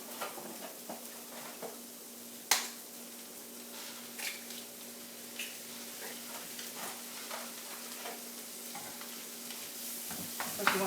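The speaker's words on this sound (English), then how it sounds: "I'm just going to fry them on top." Eggs frying in a pan on top of a quesadilla mixture, a soft steady sizzle with occasional stirring scrapes and a sharp utensil knock, close and fairly quiet.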